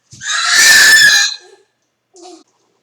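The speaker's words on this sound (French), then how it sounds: "excusez-moi pour les cris de bébé" A baby's loud, strained cry rises for about a second and fades, then a brief, fainter whimper follows after a pause, with no talk over it.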